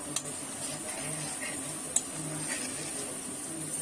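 Dahi vada lentil balls are stirred as they fry in hot oil: a steady, soft sizzle runs throughout, broken by two faint utensil clinks against the pan.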